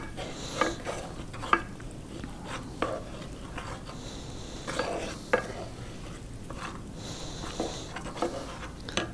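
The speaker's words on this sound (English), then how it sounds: "Then you stir that up for about a minute or so." Food frying in a pan is stirred with a utensil, giving repeated scraping clinks every second or so over a soft, steady sizzle, close and fairly quiet.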